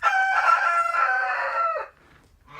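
A rooster crows once, loud and close, a long strained call that trails off into quiet.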